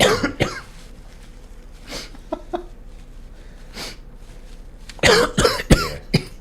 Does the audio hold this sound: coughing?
yes